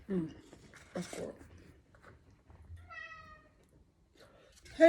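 A cat gives a couple of short, faint meows indoors, briefly and alone, amid quiet background sounds and a person's voice nearby.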